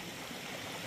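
River stream flowing over stones in Saltfjellet National Park, a faint continuous rushing and burbling of water, steady and brief.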